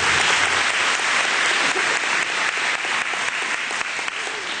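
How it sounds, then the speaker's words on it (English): An audience at the Bradley County Chamber of Commerce gala claps steadily, a dense, sustained wash of applause from a large crowd that holds at full strength throughout with no speech over it. "Let's give everybody a round of applause"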